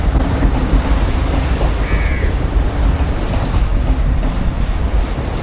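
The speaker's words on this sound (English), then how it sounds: "Oh, there is a train going." A Sri Lankan train rumbles steadily past near the beach in Colombo, a loud continuous roar with rail clatter, while a crow caws briefly in the middle.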